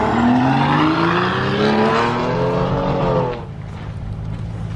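Mercedes S600 V12 engine revving, a loud close rising rev held for about three seconds and then dropping back to a quieter idle.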